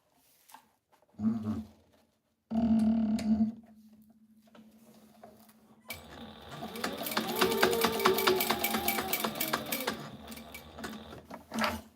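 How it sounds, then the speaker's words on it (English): A sewing machine stitches a label onto the left-side wing of a piece of tactical gear, running in a steady rapid rhythm for several seconds after a couple of short bursts, with a soft whirring motor and no talking. "we're going to sew the label on now"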